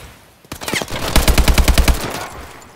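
Rapid bursts of automatic gunfire from a video game weapon, a dense run of sharp, evenly spaced shots lasting over a second, loud and close.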